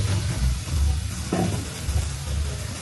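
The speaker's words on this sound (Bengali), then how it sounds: "আমি কিছুক্ষণ ভেজে নেব মশলাটা সহকারে তেলের মধ্যে কিছুক্ষণ" Spices sizzle and fry in hot oil in a pan, a steady, close crackling hiss with a brief stir partway through and no talking.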